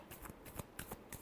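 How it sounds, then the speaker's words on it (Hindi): A quick, faint riffle of tarot cards being shuffled, a soft burst of flicking papery snaps lasting about a second, heard alone. "Last shuffle."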